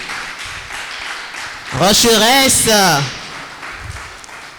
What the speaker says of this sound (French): Voilà, le public vous applaudit